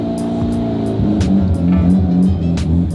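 A Lamborghini engine idles and rumbles steadily as the car is slowly reversed, a low harmonic drone holding close and loud throughout with slight swells in revs.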